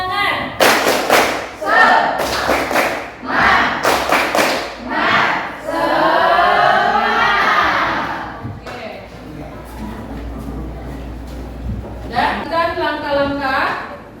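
Schoolchildren in a classroom repeat a rhythmic spirit clap, bursts of sharp synchronized claps in a patterned sequence, alternating with loud group shouting and a teacher's voice.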